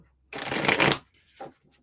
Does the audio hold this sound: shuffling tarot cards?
yes